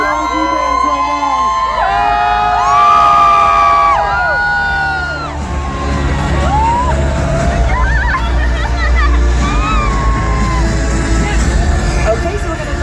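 A crowd at an Avengers: Infinity War movie event at MBS cheers and whoops, loud and sustained, with whistles and yells rising over a dense babble of voices.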